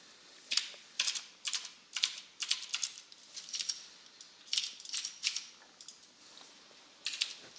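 Computer keyboard typing while C++ code is written, with bursts of crisp key clicks in uneven clusters and short pauses between them, close and moderately quiet, with no speech.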